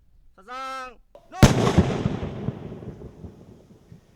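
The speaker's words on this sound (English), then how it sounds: "There is only one way to be certain this shell is out of commission for good: blow it up, right where it was found." A controlled detonation destroys an unexploded artillery shell in Vietnam. One sharp, heavy boom is followed by a long rumbling decay, and a brief tonal sound is heard just before the blast.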